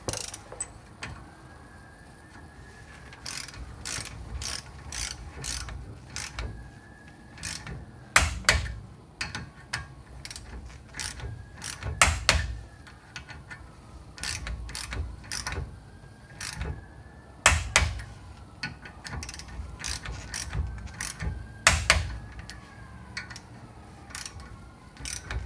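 A torque wrench tightens the wheel lug nuts on a BMW M3, giving crisp ratcheting clicks in repeated runs with short pauses between them, close and fairly loud in a quiet garage.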